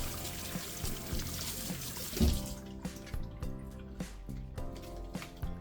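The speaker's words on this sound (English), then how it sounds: "and then rinse them under the water." Tap water runs steadily over halved leeks being rinsed for leek and minced red meat dumplings, a close, continuous splashing and trickling with a brief louder gush near the middle.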